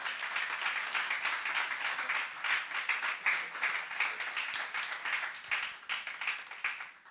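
A church congregation applauds together in a sustained, dense burst of clapping that keeps an even, rapid rhythm and fades slightly at the end, heard from within the crowd with no speech over it.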